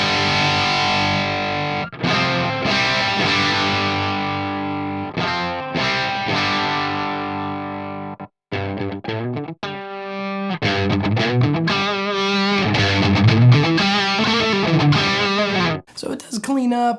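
Distorted electric guitar through a Carstens Grace Deux amp, loud sustained chords and ringing notes with short breaks and a quieter picked passage before heavier playing returns, no voice over it.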